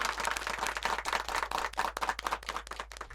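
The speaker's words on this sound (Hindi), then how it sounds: "तो जोरदार तालियों से स्वागत कीजिए हमारे" An audience at a school stage program for grades 5 to 8 bursts into applause, dense rapid clapping from many hands in uneven surges, fairly loud and close, with no voices over it.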